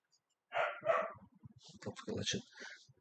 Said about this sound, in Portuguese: Olha esse cachorro latindo aí